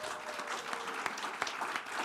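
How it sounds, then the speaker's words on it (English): A church congregation applauds at a Sunday service event at a spiritual life centre, giving steady, moderately distant clapping from many hands throughout, with no talking over it. "Let's give him a round of applause."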